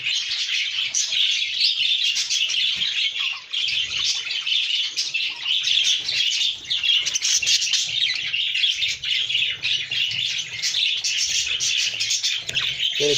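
Pet birds chirp loudly and continuously at close range, a dense, unbroken stream of shrill tweets filling the whole stretch with no voices over it.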